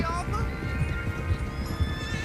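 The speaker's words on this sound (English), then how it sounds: "Is that horse okay, Arthur?" A horse whinnies and shifts about in the video game Red Dead Redemption 2 during a train heist setup, with hoof sounds and ambient game noise under people talking.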